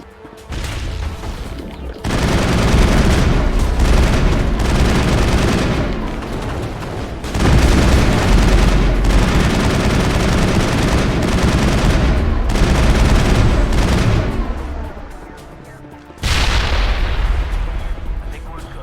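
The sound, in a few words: gunfire shooting at an enemy in the video game Mass Effect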